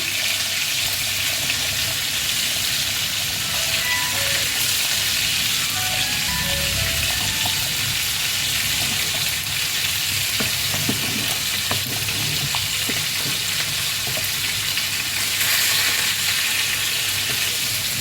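Oil frying in a pan while making catfish gravy, with tamarind and green chili added, a constant loud sizzling hiss with occasional scraping and clatter, close by.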